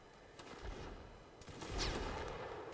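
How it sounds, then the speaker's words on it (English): Musket volleys in the Napoleonic Wars game during an online line battle event: overlapping crackling shots rolling in loosely timed bursts, with a heavier cluster of fire near the end, fairly distant and continuous. "You can see these guys returning fire with gusto."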